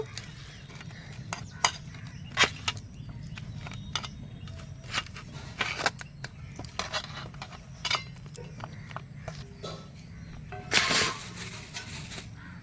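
Pieces of fish are laid into a metal bowl with a little oil, producing quiet, scattered metallic clinks and scrapes, with a sharper clatter near the end.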